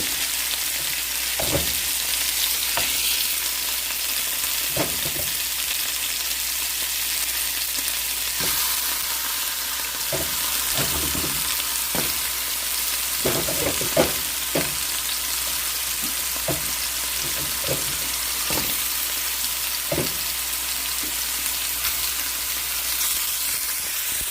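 Ribs cooking down in a pan, a steady loud sizzle and hiss running throughout with repeated clinks and scrapes from stirring, no voices.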